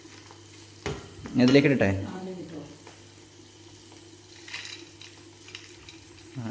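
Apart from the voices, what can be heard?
second batch of clams frying in oil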